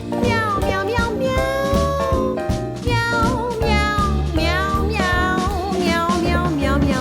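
Four ginger kittens, five and a half weeks old, meow continuously and loudly in a nest, their high overlapping cries forming a dense, restless chorus.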